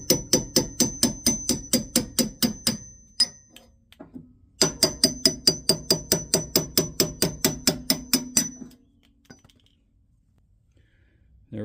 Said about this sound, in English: Hopefully I can drive out the existing bushings with these.